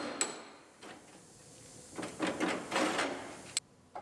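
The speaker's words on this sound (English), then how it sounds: "Use our scraper to break these spot welds loose." Sharp metallic scrapes and clanks come in irregular bursts as a scraper prises at spot welds on a Mustang GT body, with brief pauses between strokes.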